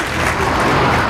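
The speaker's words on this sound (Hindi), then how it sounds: "एक बार जोरदार तालियां बजाइए गुरुजी कुमारन स्वामी जी के लिए" Loud, steady applause from a film festival audience welcoming spiritual leader Guruji Kumaran Swami, a dense unbroken wash of clapping for about a second.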